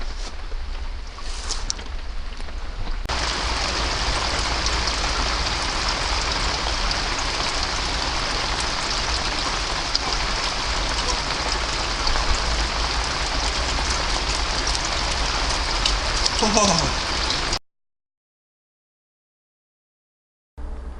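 Steady rain patters on an allotment in a dense, even hiss that runs unbroken, then cuts off abruptly near the end.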